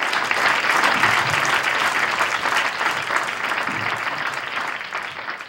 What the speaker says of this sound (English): To a nice round of applause for Mr.